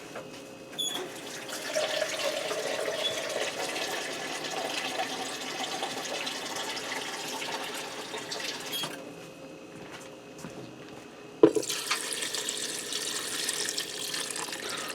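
Water runs steadily from a tap for several seconds, briefly cuts off, then resumes with a brighter, splashier rush; a clunk sounds in between.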